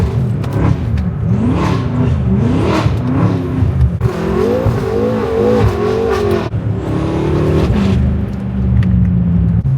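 A BMW F10 M5 engine revs hard through a tunnel, its rising and falling howl loud, close and sustained, with repeated throttle blips echoing off the walls and no talk.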